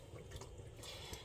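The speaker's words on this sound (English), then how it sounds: "So we're going to remove some of this water" Water being removed from a yarn dye pot, a soft, continuous liquid trickle with faint drips, close and quiet, with no talking.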